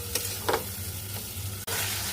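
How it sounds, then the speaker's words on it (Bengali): Prawns with spices sizzle in a pan, a short stretch of steady frying hiss broken by a few spoon strokes and a brief stir. "আমি চিংড়ি মাছটা দিয়ে আমি 2-3 মিনিট ভালো করে কষিয়ে নেব"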